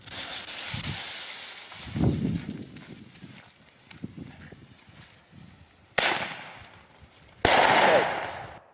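Thunder King firecrackers go off outdoors after a stretch of quieter low rumbling, with two sharp, loud bangs near the end, each followed by a short crackling decay.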